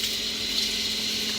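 A water pump motor runs with water flowing, a steady hum under a continuous hiss and gush of water, close and fairly loud with no one speaking.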